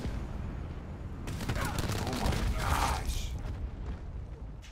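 Black Ops 4 multiplayer gunfire crackles in a dense burst of rapid shots over a noisy battlefield, building and fading within a few seconds.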